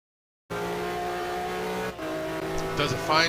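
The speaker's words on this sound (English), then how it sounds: "Does a fine job of feathering the throttle to hold that line tight and then swing out wide on the exit." A GT1 race car at Road America in a racing video game holds a loud, sustained engine drone. The tone dips briefly as the driver feathers the throttle, and a short tire squeal comes near the end.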